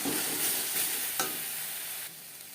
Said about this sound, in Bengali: তিন চার মিনিট নাড়াচাড়া করে নেওয়ার পর দিয়ে দেব ভাজা মশলা